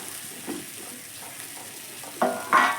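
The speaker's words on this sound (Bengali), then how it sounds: "আলুর সঙ্গে একটুখানি নেড়ে চেড়ে মিশিয়ে নেবো" Potatoes being stirred and mixed with fried beans and capsicum in a pan, soft scraping and a low sizzle for most of the stretch, then two louder clatters of the spoon against the pan near the end.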